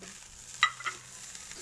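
Carrots stir-fried in a pan give a soft continuous sizzle with a couple of quick spatula scrapes or clicks near the start, quiet and close.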